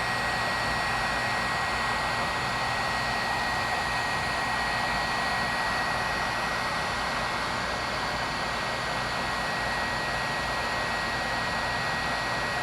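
A heat gun fusing encaustic wax paint on a painting surface, a steady, loud, unbroken blowing roar with a whistling tone that holds without change throughout.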